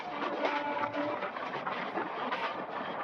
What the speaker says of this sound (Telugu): స్పీడ్ అయితే అందుకుందండి మన పల్నాడు సూపర్ ఫాస్ట్ ఎక్స్ప్రెస్